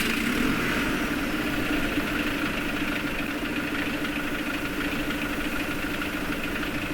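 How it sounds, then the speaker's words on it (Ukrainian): Tractor engine idling, modeled on the MTZ-82.2, in Farming Simulator 22: a steady, continuous mid-pitched drone with a faint knocking texture that holds at an even level for the whole stretch, with no talk over it. "Ось такий от у нас є трактор."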